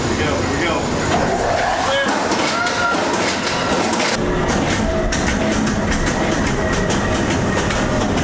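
A train passes close by with loud rumbling and rhythmic clickety-clack of wheels on rails, while people talk excitedly over the noise.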